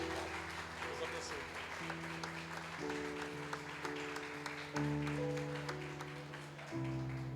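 A church congregation claps along over sustained keyboard chords that shift every second or so, with the clapping forming a soft rhythmic patter beneath the music.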